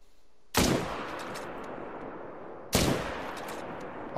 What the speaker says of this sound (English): I believe I shot that one twice.